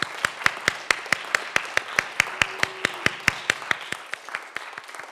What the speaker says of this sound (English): can we have another round of applause for my students